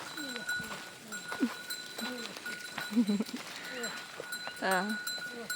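Cattle heading home in an Indonesian village, with several repeated low moos and bleat-like calls over a busy rural background, a faint bell-like ringing, and people talking nearby.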